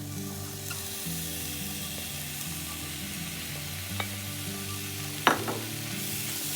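Onions and tomato fry in masala in a pan for a Kerala-style sardine curry, giving a steady close sizzle with a constant low hum, and a few sharp scrapes and clinks as the mixture is stirred.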